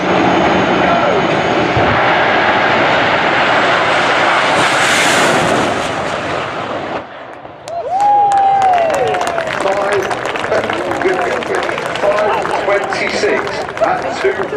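The Fireforce 5 jet car makes a fast quarter-mile run at Santapod drag strip with a loud jet roar that peaks, cuts off sharply, and gives way to crowd noise and a public-address commentator talking.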